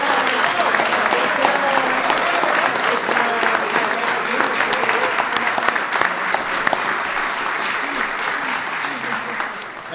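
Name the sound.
standing ovation and applause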